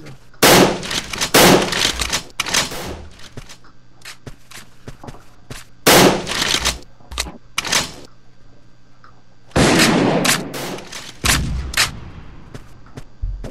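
Gunfire in an online one-on-one video game match: sharp, loud shots fired in short bursts and single cracks, separated by quiet gaps, with no talking.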